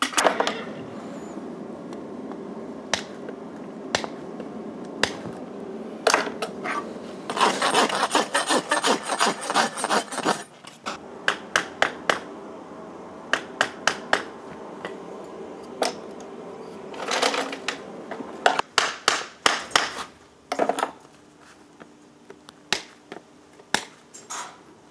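A farrier cutting and clinching the protruding nail ends on a shod horse hoof, heard as sharp metallic clicks and snips alongside bursts of rasping scrapes, irregular and close.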